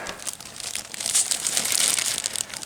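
Tape crinkles and rustles as it is pulled and pressed over screw heads on a 1963 Chrysler 300 J rear seat area, a close, continuous papery crackle without speech.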